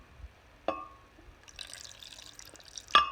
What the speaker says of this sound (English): And then we're gonna put a little bit of water in there.